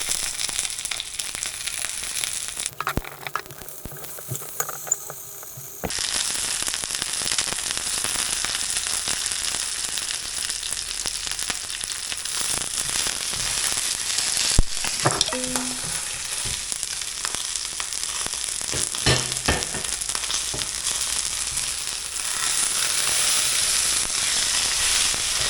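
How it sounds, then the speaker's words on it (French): Black bass cooking in oil in a pan, a loud steady crackling sizzle that drops briefly, then returns dense and continuous for the rest, with no voices. "Je vais mettre un petit peu d'huile à l'intérieur, l'huile elle aide à conduire la chaleur. Ça l'aidera à cuire de l'intérieur."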